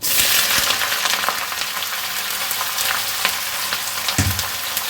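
Snake gourd pieces hit a hot oiled pan and fry with a loud, steady hiss and crackle, with occasional utensil knocks.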